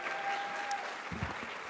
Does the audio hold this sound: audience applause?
yes